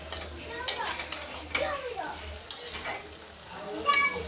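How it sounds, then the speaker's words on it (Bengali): Radish curry being stirred in a pot, a spoon scraping and knocking against the metal in irregular strokes over a faint sizzle, with some indistinct voices in the background. "এই যে মূলো ভাড়ালি ঘন্ট করছি, নেড়ে চেড়ে দিচ্ছি"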